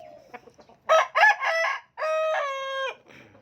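A single rooster crows nearby, a clear drawn-out cock-a-doodle-doo with a stuttering start, against an otherwise quiet background.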